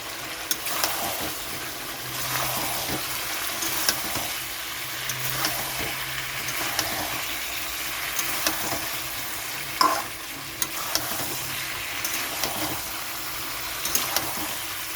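Chicken kosha being stir-fried in a pan, with a steady sizzle and repeated scraping stirs throughout, fairly close and alone without voices.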